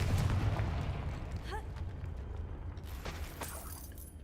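Confringo blasting spell effect in a magic-themed video game, a broad rumbling boom with crackling debris under a low continuous drone, followed by a few faint sharper bursts.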